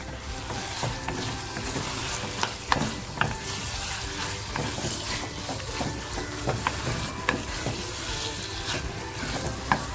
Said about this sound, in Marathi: कोळंबी जी आपण मॅरिनेट करत ठेवली होती ते आता कोळंबी त्या कांद्यामध्ये आपण मी टाकणार आहे